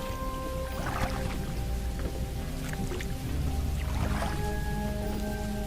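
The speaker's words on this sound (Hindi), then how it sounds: "बारिश अभी भी नहीं रुकी थी, बादल गरज रहे थे।" Rain falls steadily as a background effect in a Hindi horror tale set at night by a boat, with scattered squishy drips and splashes over a continuous wet wash.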